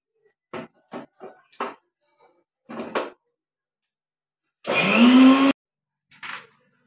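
A mixer grinder whirs loudly for under a second, finely grinding green chilies, garlic and ginger into a vada pav masala, preceded by scattered clicks and clinks of prep.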